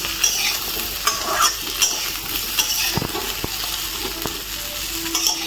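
Drumsticks, potato and tomato fry in a pan with a steady sizzle, broken by a few sharp clinks and scrapes of stirring near the middle and end.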